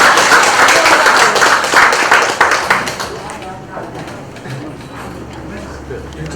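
Audience applause at a patriotic speech contest, a burst of loud clapping that fades after about three seconds into quieter room murmur and shuffling.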